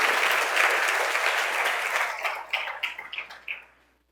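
Church congregation applauding during a worship service, a dense wash of many hands clapping that thins into scattered individual claps before fading out.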